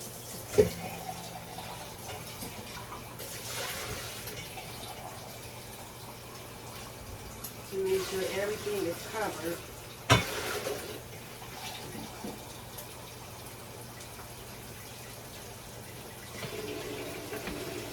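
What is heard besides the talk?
hot water from tap poured into soup pot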